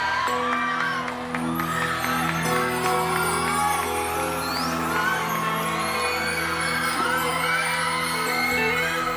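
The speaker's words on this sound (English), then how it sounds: "Look at the screams." A crowd at a singing contest screams and cheers steadily throughout, a dense wash of shrill voices and whoops layered over music from the stage.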